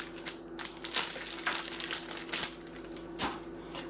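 Plastic screen protector packaging for a Nintendo Switch OLED being handled, giving a steady run of close crinkling and crunching rustles with a few sharper crackles, alone without any voice.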